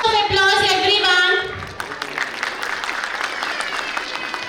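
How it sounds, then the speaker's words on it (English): After a short stretch of singing or musical voice, a school annual function audience applauds steadily, the clapping settling into a dense, moderate wash that continues to the end. "Applause everyone."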